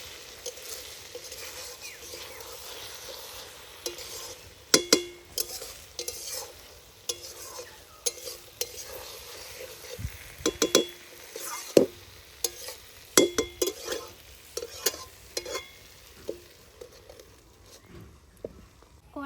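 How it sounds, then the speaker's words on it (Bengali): Fish head curry with green chillies is stirred in a pan, giving repeated scraping clinks and knocks over a low simmering sizzle, loud and close with irregular rhythm throughout. "এটা আমি এখন এর মধ্যে দিয়ে দেব আর একটু নেড়ে দেব"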